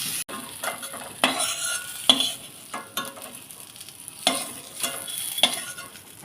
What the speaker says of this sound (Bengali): এইখানে হচ্ছে আলুগুলো ভেজে নেব। সামান্য একটু লবণ দিয়ে দিলাম, সামান্য একটু হলুদ দিয়ে দিলাম।